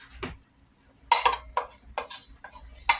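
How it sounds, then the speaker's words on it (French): A lid comes off a cooking pot of homemade fumbwa: a faint knock early on, then a cluster of sharp metallic clinks and scrapes, and a final bright clink at the end, with no talking. "là maintenant on va ouvrir notre marmite de fumbo"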